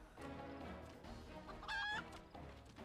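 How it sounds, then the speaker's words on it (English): A chicken clucks in a Final Fantasy XIV Hatching Tide scene, short cackling bursts with one sharp squawk in the middle, set over a soft game background. "Oh, that's a gnarly looking chicken."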